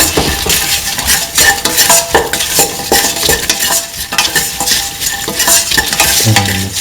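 Okra and winter melon stew with salt stirred briskly in a pan, loud continuous scraping and sizzling up close, with a few utensil clinks and no voices.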